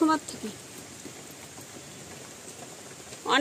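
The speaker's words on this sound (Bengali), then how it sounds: "দেখুন বৃষ্টি হচ্ছে" Steady rain falling outdoors in a village while a curry simmers over a wood fire, a soft continuous patter heard fairly quietly between brief bursts of a person talking at the start and end.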